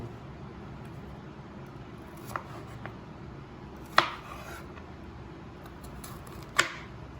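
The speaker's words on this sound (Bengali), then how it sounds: "উচ্ছেগুলো কেটে নেব।" A knife chops bitter gourd (karela) on a board in a home kitchen, with a few sharp, isolated cuts spaced seconds apart over a low background hum, close and fairly quiet.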